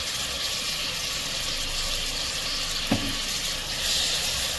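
Tomatoes, fenugreek and spices fry in a pan with a steady, even sizzle, close and moderately loud. A single brief clink of a utensil sounds partway through.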